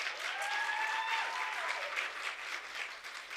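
An audience at a women-in-media awards event applauding, a dense wash of clapping that holds steady and then gradually eases off, with a few faint voices mixed in.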